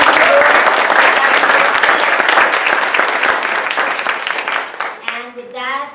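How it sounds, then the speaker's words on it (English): An audience bursts into full, dense applause for board members at an organization's event, sustained and loud before tapering off as a voice begins speaking at the end. "so we can give you a round of applause"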